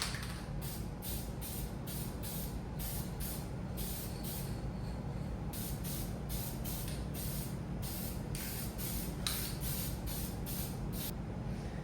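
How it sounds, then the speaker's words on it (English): Aerosol gasket spray applied to LS2 engine parts in rapid repeated short hissing bursts, close and fairly loud, with no talking. "So we're gonna spray this stuff on and hope we don't blow a gasket"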